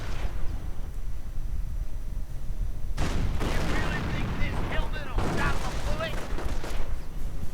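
Gunfire and artillery in a WWII strategy game: a low rumbling bed of battle noise erupts into dense bursts of shots and blasts, loud and sustained, with a commentator talking over it.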